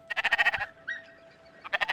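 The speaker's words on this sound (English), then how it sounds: "A sheep." Sheep bleating in the video game Spiritfarer: a quick run of wavering bleats, a short pause with a faint sustained tone, then another burst of bleats, close and clear with no talking.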